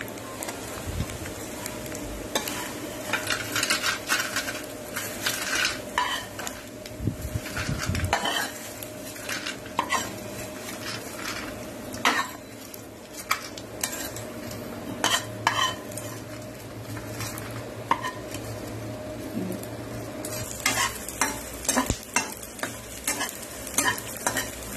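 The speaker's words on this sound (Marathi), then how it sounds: "अशा प्रकारे ना आपण बाकीचा डिंक पण आपण भाजून घेणार आहोत" Edible gum (dink) fries and puffs in a pan while a spoon stirs and scrapes it steadily, a constant close sizzle broken by frequent metallic clinks and knocks.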